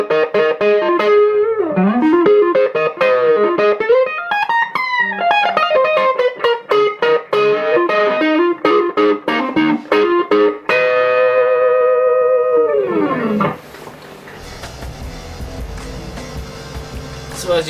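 An electric guitar plays bluesy bends and quick runs through a gritty Shark Effect Moo Kalei overdrive pedal, ending on a long sustained chord that fades into a buzzy hum.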